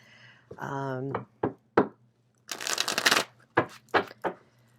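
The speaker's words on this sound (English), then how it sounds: "finish shuffling, get the energy on the cards." A short burst of tarot cards being riffled and shuffled, surrounded by a few sharp taps and a person's voice speaking.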